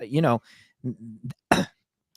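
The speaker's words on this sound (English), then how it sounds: "I got to clear my throat." A person clears their throat with a couple of rough, gravelly bursts, close up, followed by a sharp short cough.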